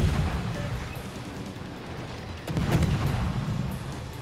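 Heavy naval gunfire in World of Warships, a German battleship and a cruiser trading salvos: deep rumbling booms rolling continuously, with a louder burst swelling midway.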